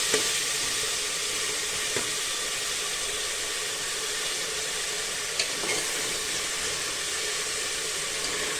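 Pigeon peas frying in hot tempering oil for undhiyu give off a steady, dense sizzle and hiss. The sound stays close and even throughout, with only a couple of faint ticks and no voices.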